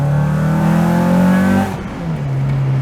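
A Honda Accord Euro engine revs hard and steady, pitch climbing, then drops off abruptly and settles back to a loud idle.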